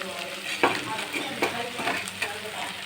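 Boiled potatoes are stirred into frying spinach and onion curry, with a steady close sizzle and several distinct scraping strokes of the spoon against the pan.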